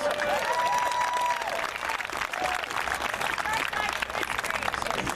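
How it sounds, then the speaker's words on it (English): An audience claps steadily, a dense wash of applause with a few voices and whistles over it. "So give yourselves a round of applause."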